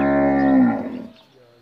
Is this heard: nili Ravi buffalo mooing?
yes